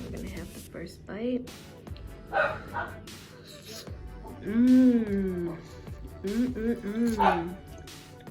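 A dog barks and yips intermittently nearby while a person talks and makes eating noises, the barks rising and falling in short howly bursts.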